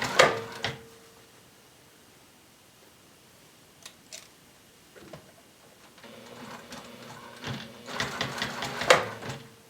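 Sewing machine stitching over chenille yarn to form a letter, heard as short bursts of mechanical whirring with quiet pauses between runs, growing busier and louder toward the end.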